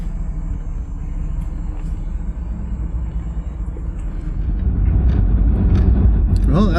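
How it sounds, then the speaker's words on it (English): Mercedes R107 out on a test drive, a steady low engine and road rumble heard from inside the cabin that swells louder near the end, with a brief voice at the close. "So we're taking for a test drive, but I'll tell you, it's really smooth."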